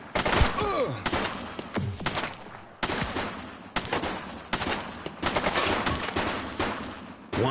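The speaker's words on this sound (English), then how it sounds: "He's shooting!" Gunfire in the police action game The Precinct: repeated bursts of shots and rapid fusillades, loud and close, with sharp impacts and brief pauses between volleys.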